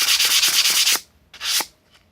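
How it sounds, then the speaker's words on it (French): Rapid rasping strokes of sanding scratch back and forth for about a second, stop, then a short second burst of rubbing follows. "on passe un coup de ponceuse, à manuel ou électrique"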